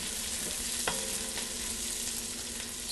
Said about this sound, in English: cook these for maybe 5 more minutes just to finish caramelizing those onions